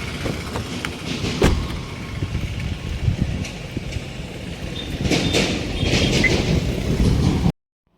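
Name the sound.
train passing at a railway level crossing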